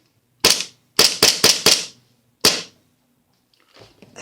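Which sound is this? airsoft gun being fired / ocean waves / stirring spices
airsoft gun being fired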